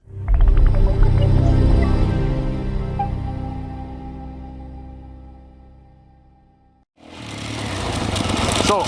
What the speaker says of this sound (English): So I'm on the only dirt bike today